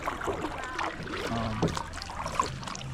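A kayak or canoe paddles on a lake, with soft water splashes and trickles from the strokes against light wind and faint outdoor background noise.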